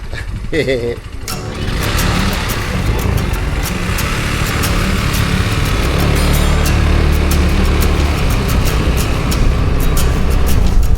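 A scooter engine hums steadily at close range as it rides along on the island of Sal, Cape Verde, with a brief voice at the start and rhythmic clicking over the drone.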